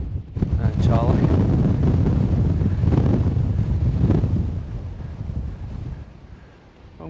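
Strong wind buffeting on an exposed Scottish mountain, a loud, roaring rumble that blasts steadily for several seconds before easing, with a person speaking over it.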